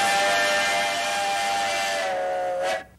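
A steam car's exhaust stack in Madisonville, Kentucky gives a loud steamy hiss with a steady whistling tone that blows continuously, then cuts off abruptly near the end.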